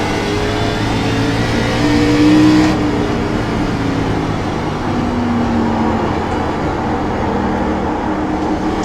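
ARCA Menards Chevrolet race car in iRacing at USA International, engine droning at full throttle with a steady rising tone and a brief louder swell, no talk.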